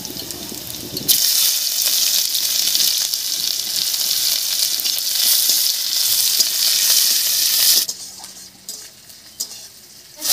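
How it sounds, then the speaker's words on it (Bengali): Chopped onion hits hot oil already spiced with whole cumin, dried chillies and bay leaves, erupting into a loud, bright, continuous sizzle that dies down sharply near the end, leaving quieter crackles. "ফোড়নটা ভাজা হয়ে গেছে, এর উপরেই দেবো পেঁয়াজ কুচি"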